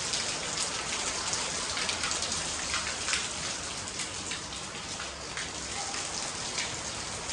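Heavy rain pouring down in a steady, even hiss of dense drops hitting surfaces, continuous and fairly close, with no voices over it.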